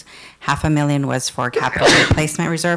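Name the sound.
sneeze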